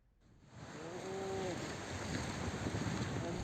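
Big waves and strong wind during a tidal flood on the north coast of Java near Pondok Bali beach, a steady, broad roar of surf that swells in and continues without a break, with a brief tonal whine near the start.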